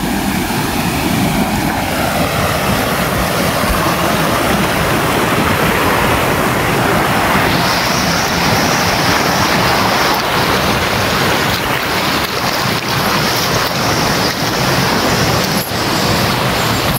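Hulugan Falls in Luisiana, Laguna roars continuously, a loud, dense rush of falling water heard up close with no voices over it.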